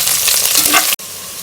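Onions sauté in hot oil for tomato rice, a loud, close, steady sizzle with stirring that cuts off abruptly near the end before a quieter sizzle resumes.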